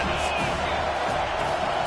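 A stadium crowd at a football game roars on a big third down, a dense, sustained cheering wash of many voices heard from within the stands, with a commentator talking over it.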